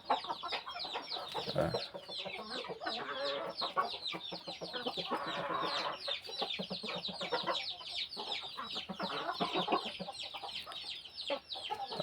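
Chickens cluck steadily and busily on a gamecock farm, with repeated close clucks and chatter from several birds and the occasional louder call, continuing throughout.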